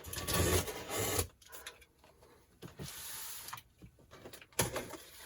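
A shipped package from Cricut is torn and rustled open, with rough scraping, ripping and crinkling of cardboard and wrapping in uneven bursts, close up and without speech.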